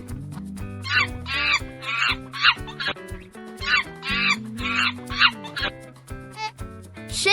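A chicken gives a series of short, sharp clucks in quick irregular bursts, layered over steady tonal background music.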